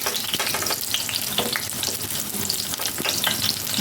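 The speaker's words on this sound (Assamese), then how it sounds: "আমাৰ পিঁয়াজকেইটা ভাজি হৈ গ'ল" Onions frying in oil in a pan for a Rajasthani onion curry, a steady, close crackling sizzle with occasional spatters and stirring, no voices.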